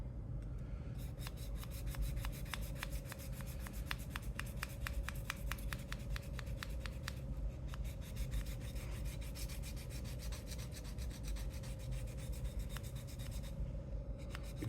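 A sloyd knife is ground on a Tormek wet sharpening wheel, giving a steady close-up rasping hum with repeated scraping strokes that run without a break.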